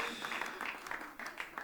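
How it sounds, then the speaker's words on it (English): Studio audience clapping at the close of a song recording session, a steady, moderately faint patter of many hands that swells in soft waves throughout. "You can hear the studio clapping for"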